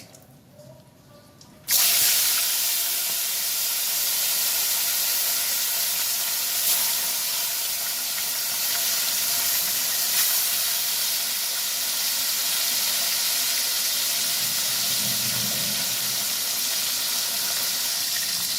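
Vola fish sizzles in hot oil in a wok after a quiet moment, breaking into a loud, steady hissing spatter close up that carries on evenly to the end with no talking.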